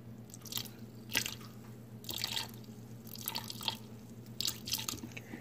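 Liquid smoke poured from a bottle into a marinade makes several short, soft splashy drips and trickles in separate bursts, close and quiet, with no talking.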